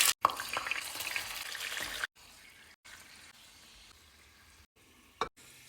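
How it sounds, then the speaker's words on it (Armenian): Meat frying in hot oil in a pan gives a loud, dense sizzle for about two seconds, then drops to a quieter, steady crackle. "Ձեթը տաքացնում ենք, միսը երկու կողմից տապակում ենք։"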